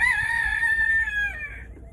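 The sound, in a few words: rooster crowing in backyard farm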